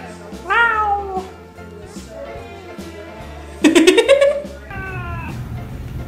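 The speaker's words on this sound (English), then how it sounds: "Meow. Meow. Meow." A seal mitted Ragdoll cat with a blaze meows four or five times, close and clear, with drawn-out rising and falling calls and one loud, strained cry near the middle, over faint room noise.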